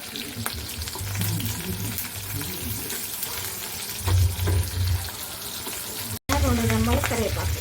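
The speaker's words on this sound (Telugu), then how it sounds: "దీన్ని మళ్ళీ తాలింపు పెట్టేసాను" Cumin seeds splutter in hot oil as a tempering for a ridge gourd chutney, a dense continuous sizzle with louder surges near the middle and end, after a brief break, with a faint voice at the close.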